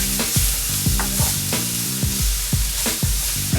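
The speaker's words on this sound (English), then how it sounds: "I'm just going to saute that around a little bit" Shredded cabbage and bean sprouts sauté for lumpia in a loud, steady sizzle, with repeated scrapes and stirs of a utensil against the pan every half second or so, and no talking.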